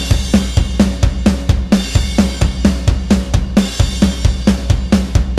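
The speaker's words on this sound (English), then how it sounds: "So the drums sound like this." Rock drum kit from Easy Drummer 3 with a high-tuned snare, recreating a rock song: a steady, driving beat of punchy kick and crisp snare hits under constant washing cymbals, loud and alone.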